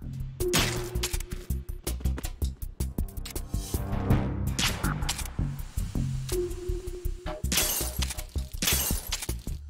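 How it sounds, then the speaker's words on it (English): Food items and containers shattering and breaking under rapid gunfire in Metal Gear Solid 2, a dense, loud run of sharp cracks and smashing bursts with brief lulls. "Smashing up the food supply can be quite a good time as well."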